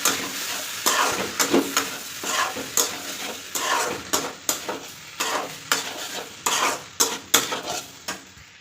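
Kashmiri chili being stirred and fried in a pan, with a rapid series of scraping, sizzling strokes of a utensil against the pan, close and loud, continuing steadily throughout.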